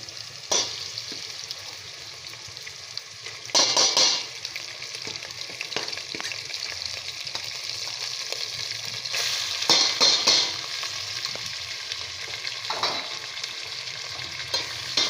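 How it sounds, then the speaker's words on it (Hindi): Minced meat with garlic ginger paste fries in a pan for a keema aloo dish, a loud continuous sizzle broken by bursts of stirring and scraping. "अब मैं इसको थोड़ा सा चलाऊंगी इसको मैं इसमें भूनूंगी थोड़ा"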